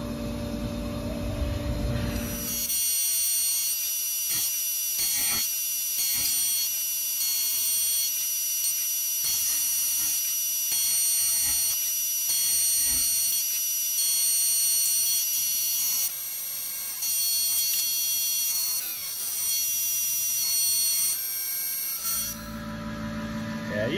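Tormach CNC mill with an end mill taking light radial cuts in heat-treated 4140 steel, producing a loud, sustained high-pitched screech over the machine's hum, with bursts of chatter throughout.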